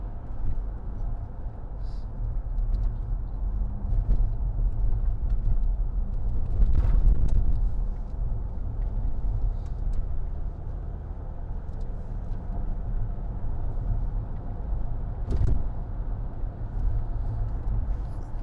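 A 2010 Range Rover Sport 3.0 TD V6 drives over a bumpy road, its steady low engine and road rumble continuous throughout with occasional thumps from the uneven surface.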